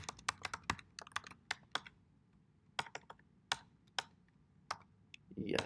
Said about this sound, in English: we'll type in our new password, retype it